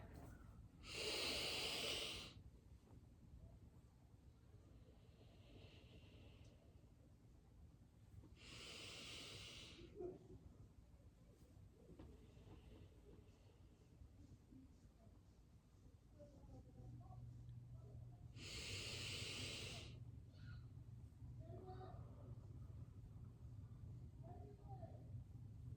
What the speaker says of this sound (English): So breathe deeply.